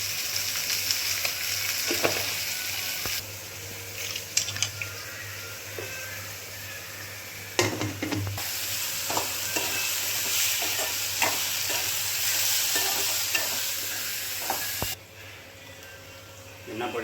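Mango pieces for a spicy pickle sizzle and hiss steadily in hot oil, with repeated stirring scrapes and clinks from a utensil throughout, and brief quieter breaks in the frying.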